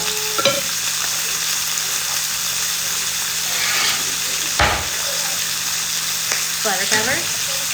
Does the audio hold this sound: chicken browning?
yes